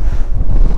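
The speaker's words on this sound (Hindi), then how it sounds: "आप खुद देखो ना हवा कितना तेज से चल रहा है" A brief burst of strong wind roars across the microphone on a high mountain road in Mustang, Nepal, loud and rushing with no voice.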